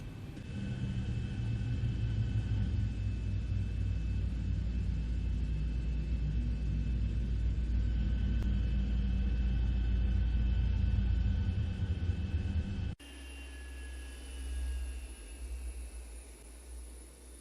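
Jet engines of a Zibo Boeing 737-800 spooling down at the gate in X-Plane 11: a loud, steady low roar and whine that cuts off abruptly, leaving a quieter cabin hum with faint tones.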